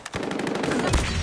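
Rapid automatic gunfire in COD Mobile, a close, loud stream of evenly spaced shots rattling off in quick succession, with no voices.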